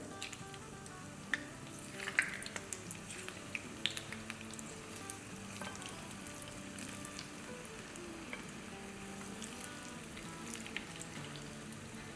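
Dahi bhalla lentil fritters fry in hot oil with a soft, continuous sizzle and scattered small pops and crackles, fairly quiet and steady with no voices.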